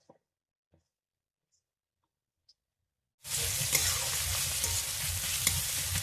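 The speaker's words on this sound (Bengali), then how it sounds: "পেঁয়াজটা আমি হালকা করে ভেজে নিয়েছি" Chopped onions with a pinch of salt start sizzling loudly in a hot pan after near silence, a sudden steady frying crackle with occasional stirring scrapes.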